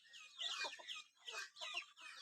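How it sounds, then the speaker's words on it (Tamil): Newly hatched native chicks on a farm give several quiet, high chirps and cheeps in short bursts with brief gaps, heard close and alone. "12 முட்டையில் 10 குஞ்சு பொரிச்சிருக்கு"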